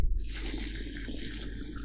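Water pours steadily into a bucket while roses are being planted, a continuous splashing and filling rush that runs close and even from start to finish.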